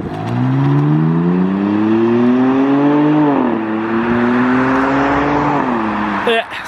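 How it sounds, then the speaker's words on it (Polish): A 2021 BMW M4 Competition exhaust revving up, dropping briefly and climbing again, a loud, close, smooth droning tone that cuts off at the end. "Strasznie słaby wydech, bardzo słaby."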